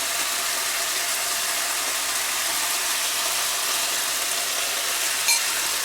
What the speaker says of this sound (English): And give this mix a stir.